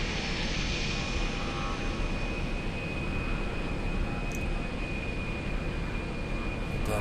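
A steady, loud propeller aircraft engine drone, continuous and even throughout, as an aircraft taxis onto the runway for takeoff in the Lock On flight simulator game.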